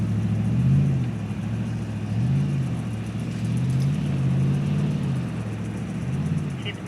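A car driving along an inland track toward a beach campsite in South Australia, a steady low engine rumble with gentle rises and falls in pitch, continuous and close from inside the vehicle.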